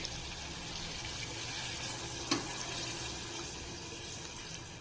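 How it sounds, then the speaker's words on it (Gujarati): Hot water, about one cup, poured into a pot of whole potatoes with spices for a potato curry, a faint steady splashing rush with one small clink midway. "હવે આમાં આપણે ગરમ પાણી 1 કપ જેટલું ઉમેરી દેવાનું છે"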